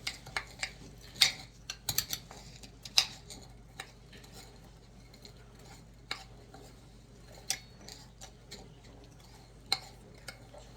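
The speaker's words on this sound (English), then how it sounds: "get a spoon and stir that up until it turns into a soft dough" A spoon stirring crushed Oreo mixture into a soft dough, with scattered clicks and scrapes against the bowl at an irregular pace under a quiet background.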